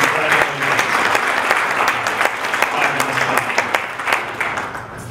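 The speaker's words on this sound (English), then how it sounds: "Will you give all of yourselves a big round of applause?" Audience applause fills a Rotary club meeting, a dense, steady round of clapping from many hands that holds for about five seconds at close range.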